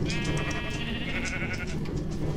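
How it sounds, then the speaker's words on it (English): Sheep riding in minecarts in a video game bleat repeatedly over a dense, noisy background of game sounds, the bleats coming in quick overlapping bursts at a moderate level. "The sheep being in the minecarts."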